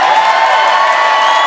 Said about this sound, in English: Let's have a nice round of applause for the Canadian National Accordion Champion from last year.